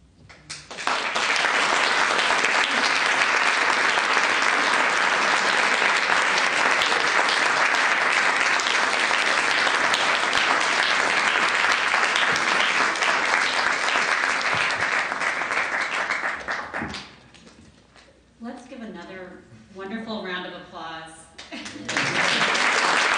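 An audience at a library author event breaks into loud, sustained applause that lasts most of the stretch before dying away, followed by a person speaking.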